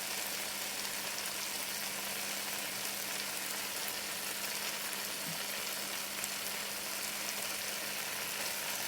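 Jalapeno with its seeds and chopped vegetables sizzle steadily in a pot for vegetarian chili, a dense, even frying hiss that holds at the same level throughout with no voices.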